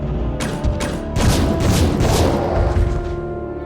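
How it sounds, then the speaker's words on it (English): Explosive arrows from the game Resident Evil Survivor 2 strike a Bandersnatch: a series of loud, close booming blasts with crashing debris, the second impact rolling into a sustained rumble. "only 2 explosive arrows to take down a Bandersnatch"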